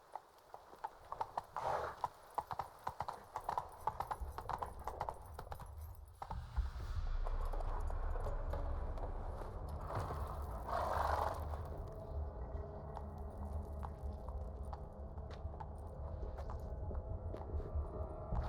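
Horse hooves clip-clopping in the video game The Witcher 3: Wild Hunt, starting as a quick, even trot, then shifting to a louder galloping rumble under wind, with a brief snort or whinny partway through.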